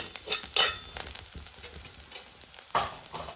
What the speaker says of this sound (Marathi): फोडणी तळलेली आहे एक चमचा धना पावडर अर्धा चमचा हळद अर्धा चमचा कच्चा मसाला मसाले फोडणीमध्ये मिक्स करून घेतली